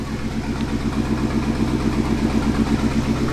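Modified BMW M5 F10 engine idling steadily with a deep, even rumble and a fine mechanical clatter, close and continuous with no voices.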